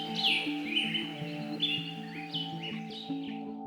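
Birds and insects calling in Kibale forest, Uganda: several overlapping bright chirps and whistled notes over a steady layered insect buzz, fairly close and continuous, no talk.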